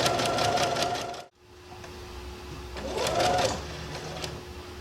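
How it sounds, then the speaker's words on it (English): Sewing machine stitching ribbon onto a skirt in a close, steady whir. It stops briefly partway through, then starts again with a rising hum. "Gonna continue on. Get this sewn down."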